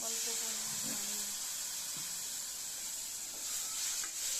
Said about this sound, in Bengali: এখন ভালো করে সবগুলো মশলা একটু জল দিয়ে ভালো করে কষিয়ে নেব